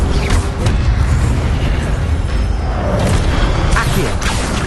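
Incendio fire spell cast in Hogwarts Legacy, a dense continuous whooshing roar with low booming rumble throughout, loud and close amid busy combat sounds.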